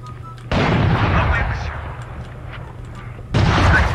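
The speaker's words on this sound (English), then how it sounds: "Placing swarm grenade" Killjoy's swarm grenade detonates in Valorant, two loud close bursts with crackling decay, the first sustained for a few seconds before a second blast near the end.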